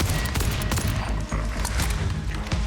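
Sniper rifle gunfire in Borderlands 4 sounds as a dense run of loud, sharp reports, with grenade blasts mixed into the sustained, noisy combat.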